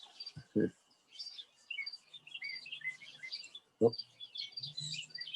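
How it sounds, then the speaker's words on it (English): Sparrows chirping as they land on a blue container holding a little water, with rapid high twittering calls running throughout at moderate distance and a couple of brief low thumps. "All the sparrows over there landing on the blue container."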